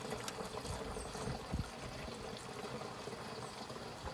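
Diesel fuel glugging and splashing into a Dongfeng 254 tractor's tank, a steady close pour with a few heavier gurgles, no talking.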